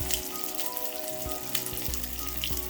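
Steady sizzling and crackling of spring rolls frying in a pan over medium-low heat, a dense hiss with occasional small pops, close and continuous without voices.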